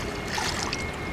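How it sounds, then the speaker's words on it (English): Sugar water poured into a honeybee feeder in a steady trickle, a close, continuous watery splashing with no voices. "Let me top them off with some sugar water."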